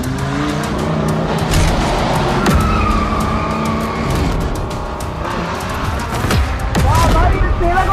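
Race cars in a mobile racing game roar and skid with squealing tires and engine whine, loud and continuous, with a voice talking over the action.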